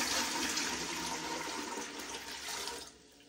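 A gallon of plain water pours into a pot for curing ham, a loud continuous splashing gush up close that tapers and stops near the end.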